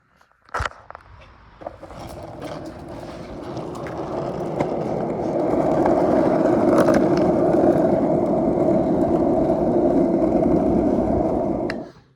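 A skateboard rolls on pavement with a steady, gritty rumble that builds louder, then stops abruptly. A brief thump comes near the start.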